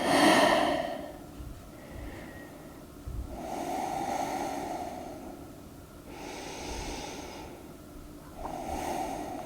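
A person breathes slowly during yoga practice, with a few long, audible inhales and exhales spaced several seconds apart, close and fairly soft.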